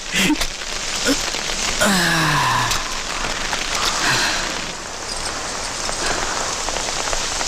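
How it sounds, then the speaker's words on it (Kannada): Steady heavy rain pours down, driven by wind, in a constant broadband wash that never lets up, with a brief wavering vocal sound near the start. "ಈ ಮಳೆಗಾಳಿಗೆ ಏನು ಕೇಳಿಸಲ್ಲ ರೀ"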